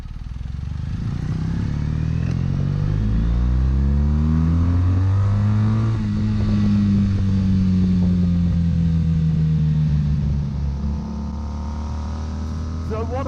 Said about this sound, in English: what I like most about riding this Bonneville is obviously the noise